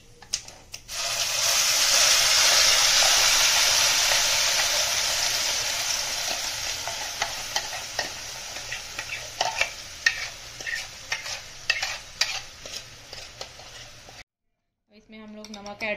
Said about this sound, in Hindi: इसमें टमाटर और लहसुन का जो पेस्ट रेडी किया है उसे डाल देते हैं।